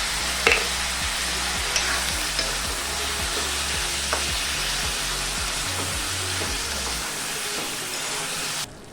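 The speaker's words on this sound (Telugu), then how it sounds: "ఇప్పుడు ఇదే నూనెలోకి టొమాటోలు వేసుకొని వేపుకోవాలి." Tomatoes fry in hot oil with turmeric, giving a loud, close, steady sizzle and crackle throughout, with a low rumbling hum underneath before the sound cuts off near the end.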